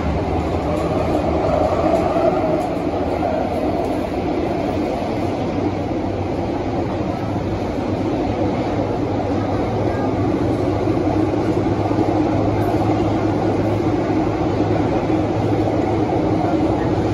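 Onboard a Kawasaki CRRC Sifang CT251 metro train running between Orchard and Havelock, a steady, close interior rumble with a constant low drone and a faint higher whine, unbroken throughout.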